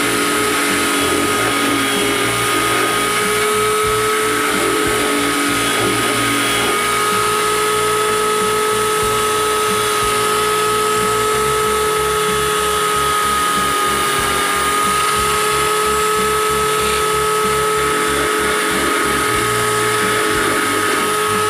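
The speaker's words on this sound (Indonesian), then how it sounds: "Lanjut kita bor." A power drill bores into a coconut-shell ring being shaped around a bacan stone, a sustained high whine with a rapid pulsing rattle underneath, running steadily and close throughout.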